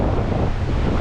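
Surf rolling onto a Florida tourist beach while a shark is reeled in from shore: a loud, dense roar of waves mixed with heavy wind buffeting the microphone, no voices.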